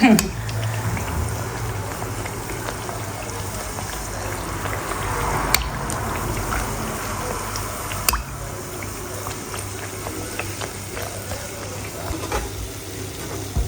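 Diwali chirote pastry fries in hot oil with a steady bubbling sizzle and scattered small pops and crackles, fairly faint, while someone talks over it.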